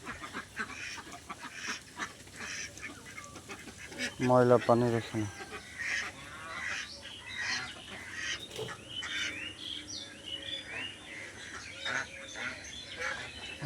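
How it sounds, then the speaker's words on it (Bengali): Ducks wander about a small farm pond area, giving a short burst of close quacking midway, with a person talking over the outdoor background. "আর এই যে হাঁস ঘুরে বেড়াচ্ছে এখানে"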